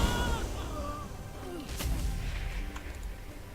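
Heavy cannon fire in World of Warcraft booms low and rumbling near the airship, with a sharp blast in the middle over constant battle noise and game music.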